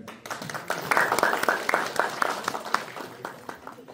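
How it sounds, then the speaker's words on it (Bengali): An indoor audience at a Bangladesh Night cultural event claps in a burst of steady applause, many hands close and loud at first and then thinning out, with faint talk underneath. "তাদের প্রতি স্পেশাল থ্যাঙ্কস এবং ক্ল্যাপিং ফর দেম"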